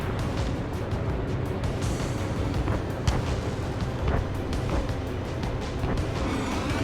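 Missile explosions in the combat flight game Ace Combat 7 form a dense, continuous roar with repeated booming bursts and rumbling blasts, loud and close, carrying on without a break.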